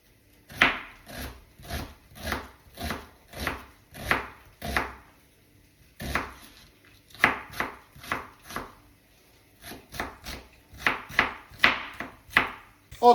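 Sharp, steady knife chops dice a large onion on a cutting board, coming in quick rhythmic bursts with a brief pause partway through, close and clear with no talking.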